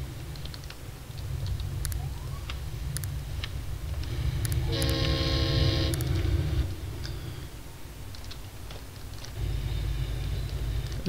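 A train horn in the railway video game Chris Sawyer's Locomotion gives a steady two-second honk partway through, set against a constant low rumble of rolling trains with faint clicks scattered around it.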